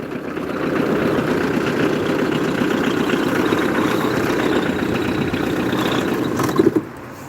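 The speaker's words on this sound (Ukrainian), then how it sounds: "Запустився. Працює рівненько, гарненько. Кубота." Kubota tractor engine idling smoothly in winter, a steady low rumble held at even loudness for several seconds, with a couple of brief knocks near the end.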